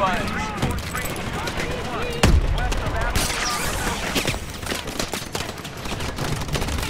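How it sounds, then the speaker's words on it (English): Scattered, overlapping gunshots from a ground battle in the futuristic shooter Call of Duty: Advanced Warfare ring out as a busy, steady crackle of fire. Voices talk over the shooting throughout. "let's shoot these bastards"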